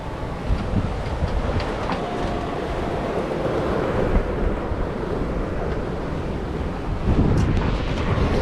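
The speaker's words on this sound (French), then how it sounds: "On a un peu de houle." Ocean swell and wind wash around a sailboat on an Atlantic crossing from Bermuda to the Azores, running at about 10 knots in poor weather; a steady, loud rushing roar of water and wind with a slight surge near the end and no voices.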